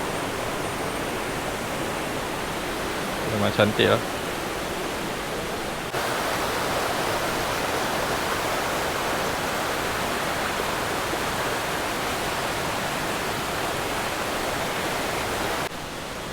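A river rushing below a campsite in Chenderiang, Tapah, heard as a steady broadband wash of flowing water, constant and moderately loud, with a brief spoken remark early on.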